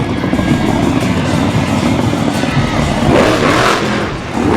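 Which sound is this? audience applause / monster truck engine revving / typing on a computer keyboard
monster truck engine revving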